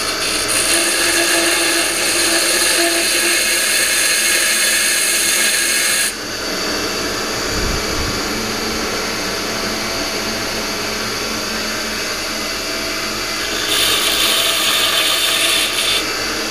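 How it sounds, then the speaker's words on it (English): Power grinder working on parts of a 1966 Ford Galaxie 500 convertible being restored, a loud continuous high whine that changes pitch partway through and rises again later, with no talk. "So I'm just gonna go and give them a quick grind"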